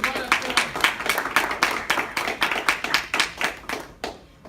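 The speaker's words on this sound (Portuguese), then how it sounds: "Aplaude a ele" A church congregation claps in a fast, even rhythm for about four seconds, each sharp clap distinct and close, before the beat thins and fades out.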